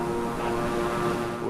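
A Beechcraft propeller plane in Microsoft Flight Simulator drones with a steady, loud engine and propeller hum, unbroken and even throughout, with no talking.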